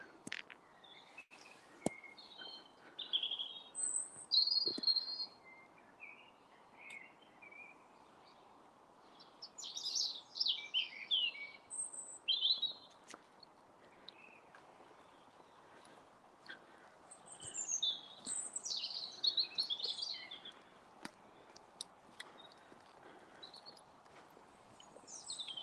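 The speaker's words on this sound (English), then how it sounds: "some birds singing" Birds sing in woodland during an evening stroll, scattered bright chirps and trilled phrases in bursts with quiet gaps, fairly distant over a faint hiss of background.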